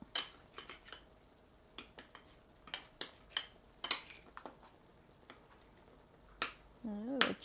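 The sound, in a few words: cutting zucchini fritters with cutlery on a plate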